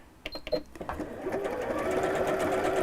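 A sewing machine runs a pin stitch, starting with a few separate mechanical clicks and knocks, then settling into a steady, fast whirring hum that continues close up to the end.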